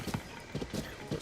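A horse's hooves clip-clop at a walking pace in Zelda: Tears of the Kingdom, a steady, fairly close run of light hoof beats with no talking over them.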